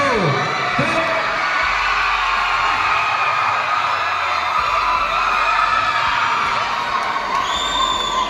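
Students cheer and shout as a crowd at a strongman axle deadlift demonstration in Nagercoil, a steady roar of voices and whoops throughout with no distinct clap rhythm showing.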